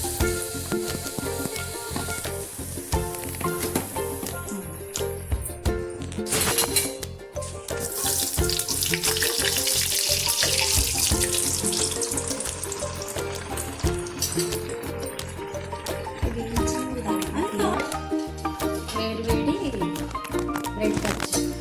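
Bread bajji dipped in batter and fried in hot oil, with loud continuous bubbling sizzle that surges as pieces go in, while someone talks over it throughout.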